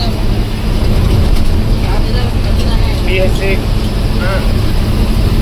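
An older Assam night-super bus runs with a loud, steady engine rumble and mechanical rattling throughout, heard from close by, with faint voices in the background.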